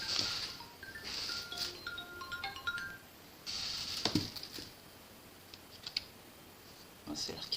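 A telephone rings in a workshop during wooden wheel assembly, a few repeated electronic tones mid-distance among scattered taps and clicks, with a voice speaking over it.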